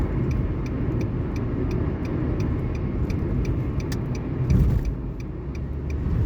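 Car driving along a highway between Dammam and Khobar, Saudi Arabia, under cloudy skies: a steady, loud broadband road and tyre roar fills the cabin throughout, with a brief surge near the end and no talking.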